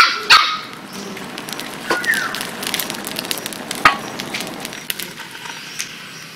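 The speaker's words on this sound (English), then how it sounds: "Puppy's wrestling over a seed pod." Four puppies wrestle over a seed pod outdoors beside a campfire, letting out a couple of sharp, brief yelps and barks amid faint rustling and crackling, moderately close and mostly quiet.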